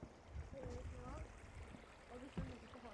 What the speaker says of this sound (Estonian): see on puhas oja